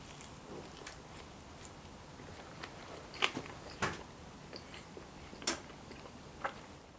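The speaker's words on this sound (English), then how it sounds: "let's get on and have a taste of this Philly cheesesteak" Someone bites into and chews a Philly cheesesteak sandwich of ribeye beef, onions and cheese on garlic butter bread cooked on a Ninja Woodfire Grill, giving a few close crisp crunches spaced seconds apart over quiet background, with no talk.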